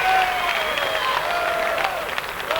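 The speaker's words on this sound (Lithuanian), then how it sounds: "Žiūrovai plojimai sveikina šio epizodo didvyrį." Spectators at an ice hockey match in Panevėžys clap in sustained applause, with crowd noise underneath and a commentator talking over it.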